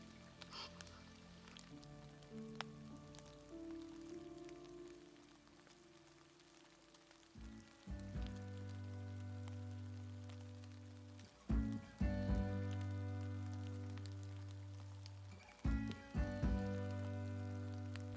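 Rain falls in a forest near Tofino, a soft, steady patter heard from close by, with low rumbling thumps and swells rising from about halfway through and no talking.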